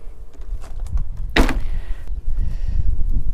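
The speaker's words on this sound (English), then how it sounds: "So now I've got the door open," A motorhome door fitted with a Fiamma door frame lock is released and swung open, giving one sharp clunk of the latch and door midway through, followed by quieter handling noise.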